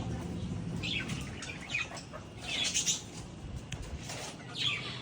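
Small chicks chirp after being let out of a cage, giving faint, scattered high cheeps in short bursts over a steady low background rumble.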